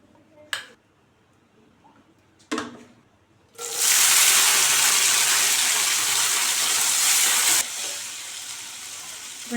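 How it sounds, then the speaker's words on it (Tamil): Cleaned, crushed green turkey berries (sundakkai) hit hot oil in a pan for kulambu, a couple of light knocks first, then a sudden loud hissing sizzle that holds steadily and drops a little toward the end, close and without talk. "இப்போ இதை எண்ணெயில் வதக்கிக்கலாம்."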